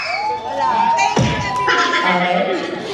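A crowd cheers and shouts loudly at an outdoor Filipino school event, with excited voices and children's yells rising and falling throughout over continuous talk.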